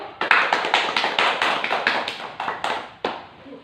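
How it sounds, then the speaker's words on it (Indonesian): Elementary school classroom applause, a short burst of fairly close, brisk hand clapping in steady rhythm that breaks off near the end, followed by one final clap. "Silakan kasih tepuk tangan dulu."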